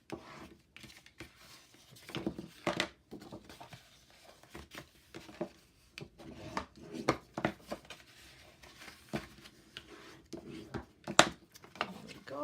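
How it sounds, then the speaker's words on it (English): Paper being folded and score lines burnished by hand while making a folio: soft, irregular rustles and scraping strokes at close range, fairly quiet throughout. "let's fold and burnish those lines, those score lines"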